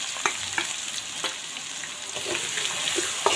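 Paneer, nuts, curry leaves and masala fry together in a pan for lemon rice, making a dense, close, steady sizzle with a few faint spoon clicks and no speech.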